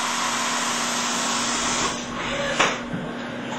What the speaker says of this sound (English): Cutting 25 thousandths of an inch off of the face.